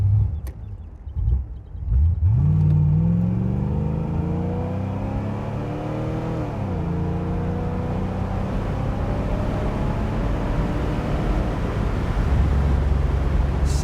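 A 1980 Chevrolet Corvette engine revs up and shifts through the gears, its pitch climbing, dropping at a shift, then climbing again, with steady road and wind rumble underneath.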